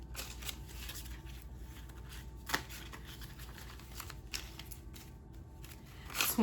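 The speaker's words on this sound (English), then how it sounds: "Bear with me while we do a money shuffle." Papery riffling and flicking of paper money being shuffled and counted, steady and close, with a few sharper snaps along the way.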